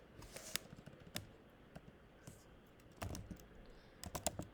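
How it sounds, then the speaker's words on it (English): Keystrokes tapped out on a slightly slow computer while filling in a sports nutrition research form: scattered, uneven clicks in short bursts, fairly quiet and close, with a noticeable cluster near the end. "My computer's a little slow here as I'm typing"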